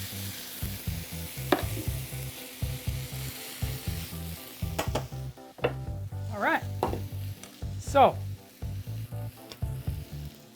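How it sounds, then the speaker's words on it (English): Onions sizzle and brown in a pan with a continuous hiss, while a low rhythmic clatter runs underneath and someone speaks briefly over the cooking. "Like I said, sizzle it. When those onions are browning and getting soft, you know you're ready to go."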